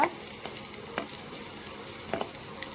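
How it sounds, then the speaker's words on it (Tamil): Crushed garlic cloves with mustard seeds and cumin stirred in hot oil in a pan, a close steady sizzle with scraping strokes of the spoon near one second and two seconds. "ரெண்டு பல் பூண்டு இடித்து வச்சுருக்கேன், அதை போடுவோம். போட்டுட்டு கிளறி விடுங்க."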